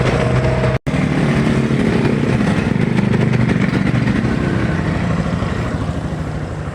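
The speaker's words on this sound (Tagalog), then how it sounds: "walang kaingay-ingay yung kanyang makina no. Napakasarap pakinggan." A Barako II motorcycle engine idles steadily and close by, a smooth continuous rumble with one brief dropout near the start.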